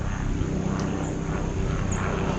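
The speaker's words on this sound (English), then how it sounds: "Oh, it's a helicopter. Check out the chopper, buddy." Helicopter passing overhead during a car sunroof decal install on a Scat Pack Bee, a steady loud rotor and engine roar that stays constant and close throughout, with no voices.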